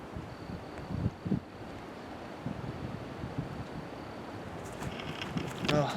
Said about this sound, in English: especially in this wind.